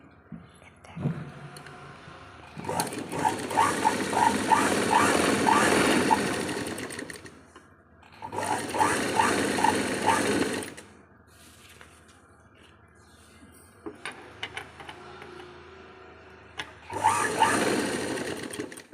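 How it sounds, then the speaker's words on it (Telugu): A sewing machine stitching the waistband on the back piece of a blouse with back hooks, running in three close bursts of rapid whirring needle strokes, with short quiet pauses and faint handling noises between runs. "బ్యాక్ పార్ట్లో నడుము పట్టి స్టిచ్ చేసేయండి"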